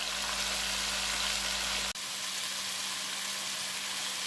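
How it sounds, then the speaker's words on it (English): Oxtails browning in a hot pan give a steady, broadband sizzle and fry hiss. It carries evenly through the whole stretch with a brief dip near the middle, and no voices are heard. "we're going to continue browning up the rest of our oxtails"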